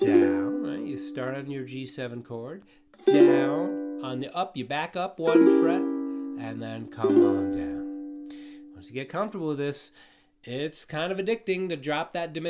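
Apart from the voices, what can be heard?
No distinct noise like a dog, phone or traffic.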